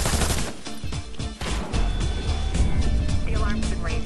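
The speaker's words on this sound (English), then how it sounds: "Did you just fucking shoot?" Gunfire in the stealth game Splinter Cell Blacklist during co-op play, sharp shots scattered through a dense, busy mix of game sound, with voices talking over it.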